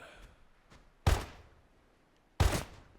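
Two sharp rat gun shots in the post-apocalyptic game Lorn Vale, each a loud, close crack with a short decay, spaced about a second and a half apart over a quiet background.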